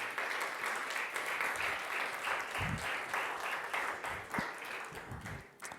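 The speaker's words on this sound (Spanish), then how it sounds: "Le levanta palmas al Señor." A church congregation applauds continuously, a steady wash of many hands clapping at a moderate distance, with some muffled thumps and faint voices underneath.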